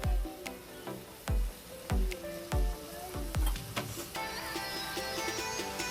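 Chopped tomatoes drop into a hot pan of frying onions for a home-cooked dish, landing with several heavy thuds before a steady, close crackling sizzle takes over, with no talking.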